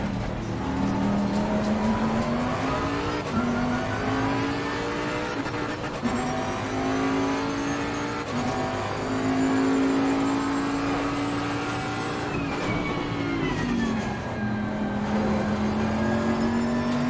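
A race car engine, heard from onboard and close up, revs hard and steadily for a long stretch, with the pitch climbing and dropping at several gear shifts, including a quick double shift.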